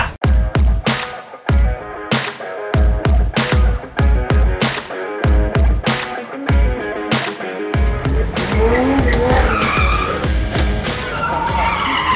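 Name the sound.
car drifting with tires skidding and squealing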